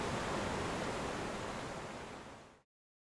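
A rushing river current roars as a steady, dense wash of water noise, fairly loud, then tapers and cuts off abruptly into silence.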